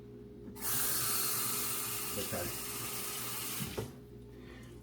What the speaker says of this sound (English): Run me a little bit of cold water